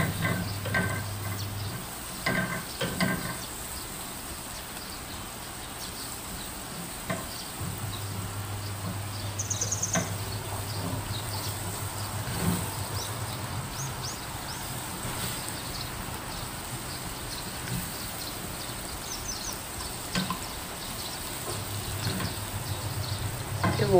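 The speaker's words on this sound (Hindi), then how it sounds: "बस इसको हल्का सा फ्राई करना है।" Garlic fries lightly in a pan, a soft, steady sizzle at low level, with occasional quiet stirring clicks and a low background hum that comes and goes.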